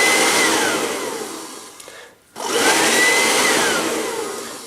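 Broken-cable hair dryer blowing with a loud broadband roar that abruptly cuts out for about half a second, then surges back on at full strength, with no voices.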